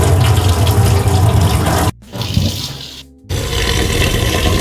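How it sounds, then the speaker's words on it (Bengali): Flattened rice (poha) is washed under a running kitchen tap. A loud, close, gushing stream of water splashes continuously, cut by two brief pauses. "এটা ভালোভাবে ধুয়ে নেব"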